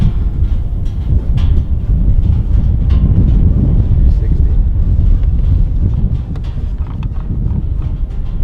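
Strong wind blows outdoors in the New Mexico desert during a pronghorn hunt, a loud, constant low rumble buffeting the microphone with no letup throughout.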